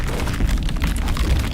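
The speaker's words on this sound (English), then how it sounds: "There has been like a crazy explosion there." A loud, rumbling explosion in the biopunk roguelike game Crete, a dense boom sustained across the moment with heavy low-end thumps.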